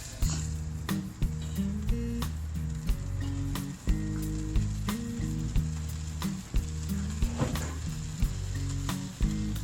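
Steady crackling sizzle of coconut cream frying in a hot wok for Thai red curry, with occasional sharp clicks and scrapes over a low background hum.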